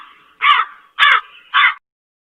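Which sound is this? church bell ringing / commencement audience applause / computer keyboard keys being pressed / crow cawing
crow cawing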